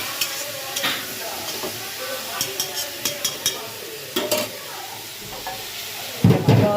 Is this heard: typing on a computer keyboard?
no